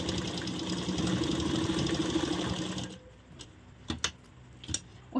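A sewing machine stitches blouse fabric with a fast, even mechanical whir for about three seconds, then stops, leaving scattered soft clicks and handling knocks.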